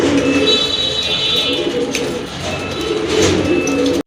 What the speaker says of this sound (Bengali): অনেক সুন্দর বিগ সাইজের এক জোড়া জাক কবুতর রয়েছে